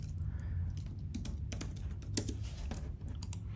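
Password being typed on a computer keyboard, a steady run of quick, close key clicks with uneven rhythm over low background hum, no voices.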